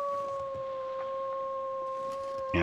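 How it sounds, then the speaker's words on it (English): Wolves in the wintry survival video game The Long Dark, a long sustained howl held on a steady pitch with a second tone above it, moderately loud over a quiet background, ending as another noise breaks in. "Okay, got a wolf over there."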